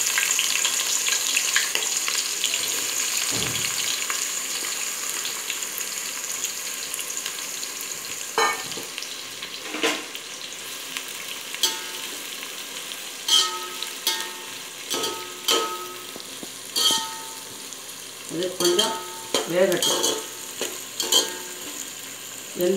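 Chopped big onions fry and get stirred in hot oil with cinnamon, cloves and cardamom for a parboiled-rice vegetable biryani, a steady close sizzle with spoon scrapes and stirring clatter growing more frequent toward the end.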